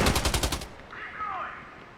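A rapid, loud machine-gun burst from the video game Fargone rattles for about half a second, then cuts off into a faint trailing ring and quiet.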